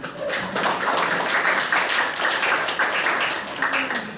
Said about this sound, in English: Let's give him applause.